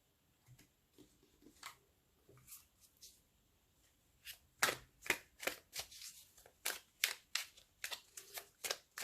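Tarot cards being shuffled by hand, a run of crisp riffling and slapping bursts, sparse and soft at first, then a dense rhythmic series of sharp snaps, close and alone without talk.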